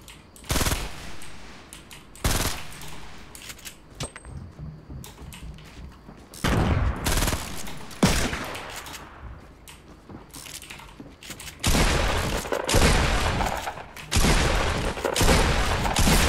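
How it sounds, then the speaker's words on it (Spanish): Bursts of rapid automatic gunfire in a Fortnite Battle Royale match, coming in several loud volleys separated by short pauses, with scattered single shots and faint keyboard clatter between them. "Y creo que nos están disparando a nosotros."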